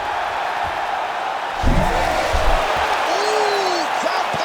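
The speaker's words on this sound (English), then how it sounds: "crowd pops as he gets out again" Arena crowd in the EA Sports UFC 5 fight game swells into a brief cheer over a steady roar of background noise, with short bursts of voices rising and falling.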